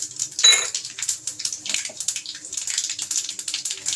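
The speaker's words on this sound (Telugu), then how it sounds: "ఆయిల్ వేడెక్కింది కదా ఆవాలు వేసుకుందాం ఆవాలు తర్వాత పచ్చనపప్పు జీలకర్ర మినపప్పు వేసుకుందాం" Mustard seeds, chana dal, cumin and urad dal dropped into hot oil for a potato fry, giving a burst of bright crackling and popping, then irregular light spattering ticks up close.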